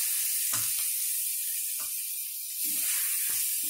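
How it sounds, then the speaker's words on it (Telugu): Chili powder and masala fry in hot oil for a curd chicken curry, producing a steady close hiss with short bursts of crackling and occasional stirring scrapes. "కారం వేగింది"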